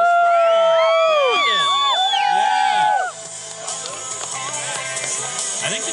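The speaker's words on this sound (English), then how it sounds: "I think the cheering's what motivated the Van Dyke boys onto greatness here" A crowd cheering and whooping at a winter contest prize announcement, loud overlapping shouts that rise and fade, then settle into scattered chatter and voices.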